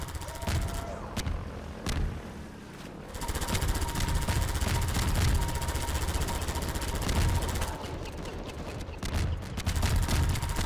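Half-Life 2 co-op battle against an attacking helicopter gunship, with dense, sustained rapid gunfire and thumping blasts over a continuous rumble, loud and close, pausing briefly before resuming.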